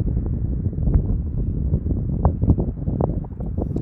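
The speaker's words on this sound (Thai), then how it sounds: "เย็นมากเลยลม" Cold wind blowing across a wide open grassland at a crowded outdoor landmark, a steady loud rumble and buffeting on the microphone throughout, with faint distant voices beneath.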